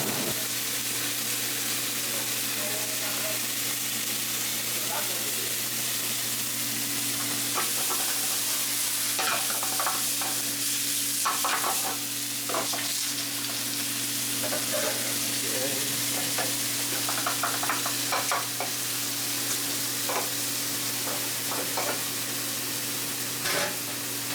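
Eggs, fresh tomatoes, vegetables and green onions fry in a pan, giving a steady close sizzle with intermittent scraping and stirring clicks, and a low constant kitchen hum beneath, with no talk.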